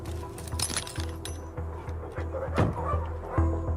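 A police dog barking repeatedly in steady rhythmic bursts at a traveller site during a search for a runaway driver, moderately close with some clinking in the background.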